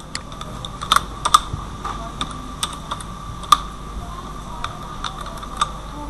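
Keys on a computer keyboard clatter in scattered, uneven bursts while a sign-up page is being coded. The clicks are close and crisp over a low, steady room hum, with no voices.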